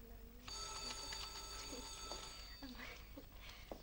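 An old telephone bell rings in a 1963 Czech film scene, a bright sustained metallic ring lasting a few seconds, with faint background sounds around it.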